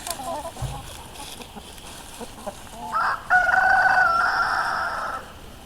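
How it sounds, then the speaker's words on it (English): A rooster crows loudly and close, a single drawn-out call following a few softer clucks and background noise. "That rooster started crowing"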